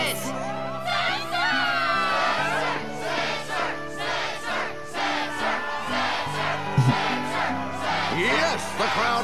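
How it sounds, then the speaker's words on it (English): A crowd in the video game Kingdom Hearts II cheers and shouts at a Struggle tournament arena, a loud sustained roar of voices and whoops over layered background music. "Crowd is fired up"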